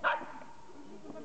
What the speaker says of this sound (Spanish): Y tenemos un perrito mala, quiere decir pequeño